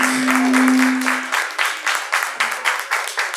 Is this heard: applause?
yes